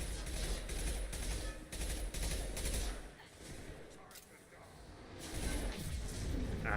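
Gunfire in the Mass Effect video game: a steady barrage of rapid shots with brief pauses and whooshing bursts, dipping midway before swelling again, under a murky layer of faint voices.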